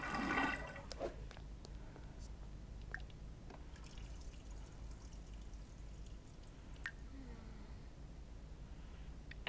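Bathtub water jets run in The Sims 4, opening with a brief rushing gush of water that settles into a steady low churning hum, close and fairly quiet throughout.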